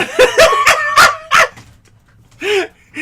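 A dog barks in a quick run of four or five loud, close yaps, falls silent, then gives one more bark and starts another, with no talk over it.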